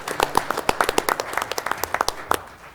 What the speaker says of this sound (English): We can applaud him, huh?